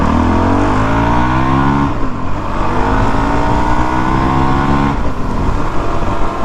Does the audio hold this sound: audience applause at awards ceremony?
no